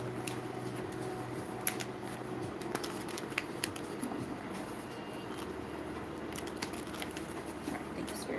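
Cards being shuffled up close, soft papery riffles and small clicks at a quiet level with no talking.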